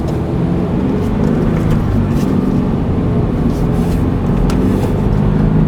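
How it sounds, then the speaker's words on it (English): Steady low road rumble and tire noise from inside a car cruising along a road on a daily drive, constant and fairly loud with no speech. "this car is such a good car to drive"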